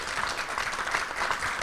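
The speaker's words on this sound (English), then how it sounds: "Could we have some applause for our 2 Hall of Famers?" An awards ceremony crowd applauds two Hall of Fame honorees, a brief steady wash of many hands clapping at moderate, somewhat distant volume.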